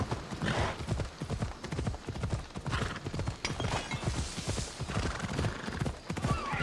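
Horse hooves clip-clopping steadily in the Assassin's Creed Odyssey video game, a continuous brisk rhythm of close, fairly loud hoofbeats throughout.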